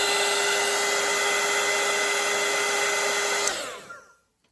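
Hair dryer blowing steadily on wet watercolour paint, a loud constant whirring roar that runs for a few seconds, then winds down and cuts off to silence.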